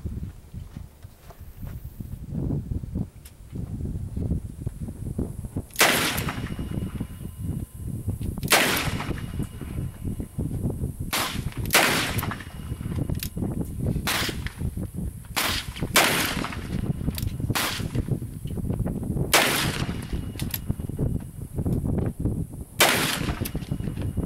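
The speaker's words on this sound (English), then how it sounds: "shooting a 4-inch Anaconda, Colt 44 Anaconda. Magnum. 44 Magnum" Loud, sharp gunshots from a Colt Anaconda .44 Magnum revolver with a 4-inch barrel, roughly a dozen reports fired at an uneven pace across an outdoor range, with background rustle between shots.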